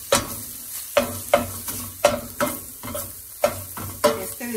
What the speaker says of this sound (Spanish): Aquí yo voy a usar una cucharita de estas para desbaratarlo muy bien, para que se cocine parejito.